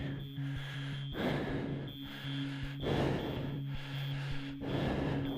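Heavy breathing during an indoor cycling class comes in three loud, rhythmic bursts of breath spaced about every two seconds, over a steady humming backdrop.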